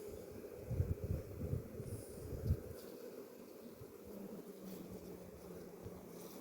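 A steady low buzz of many honey bees hums close by in a hive after a colony split, louder in the first few seconds, then softer and even.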